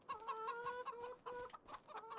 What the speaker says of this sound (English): I evidently have a chicken out